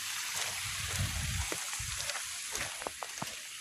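Rainwater runs along a countryside path in a faint, steady trickle, with soft splashes and footsteps close by.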